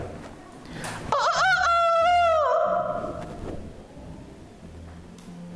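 A voice imitates a chicken with a warbling, rising and falling clucking call over a murmuring classroom, followed by faint background chatter.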